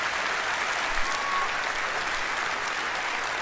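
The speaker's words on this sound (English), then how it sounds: "can I please get another round of applause for that man?" An audience at the E3 gaming showcase claps in a steady, dense wash of applause that holds at an even level from start to finish.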